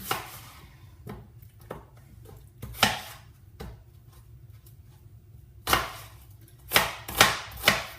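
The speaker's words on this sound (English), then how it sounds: "A couple of onions, I'm going to chop them up" Knife chopping onions on a board in a home kitchen, a handful of sharp irregular cuts spaced through the quiet, with a quick cluster of chops near the end.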